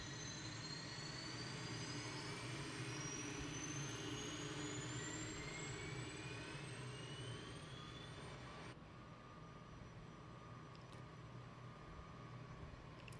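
An H135 helicopter engine spooling up in a flight simulator game, a steady turbine whine with rising tones over a low rumble, continuous and fairly even, with one tone dropping away near the end.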